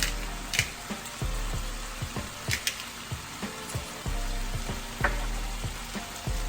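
Zucchini and shrimp, seasoned with salt and black pepper for a pasta, sizzle steadily in a pan, punctuated by a series of sharp utensil taps and scrapes from stirring, close and fairly quiet, with no talking.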